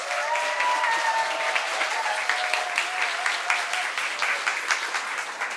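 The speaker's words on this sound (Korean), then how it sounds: "여러분 큰 박수로 맞이해 주세요" An audience claps to welcome a Sejong University professor onto a stage, a lively continuous round of applause with scattered distinct claps and a faint whoop near the start.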